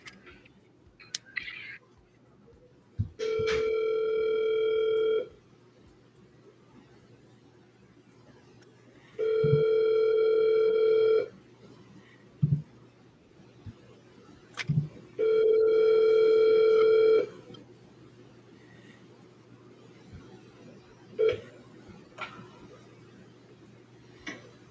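Outgoing phone call ringback tone, three long steady rings spaced a few seconds apart, clear and moderately loud with quiet gaps and faint handling noise between, before the call goes to voicemail.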